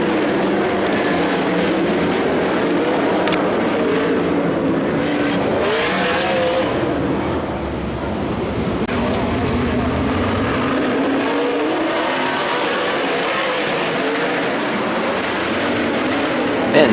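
Sprint cars from the World of Outlaws series roar around the Skagit dirt track, a dense, continuous engine drone that stays steady and loud throughout.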